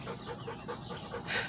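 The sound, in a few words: dog panting, breathing heavily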